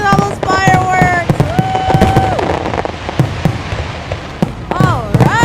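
Dense Fourth of July fireworks display, rapid pops and cracks firing in quick succession with rising whistles and tonal shrieks threading between the bursts; excited voices can be heard over it.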